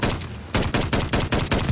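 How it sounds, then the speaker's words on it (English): Rapid bursts of gunfire in the video game Call of Duty: Vanguard, about six sharp loud shots in a quick, even rhythm after a short pause, close and punchy with no talk. "Those were nasty, nasty shots."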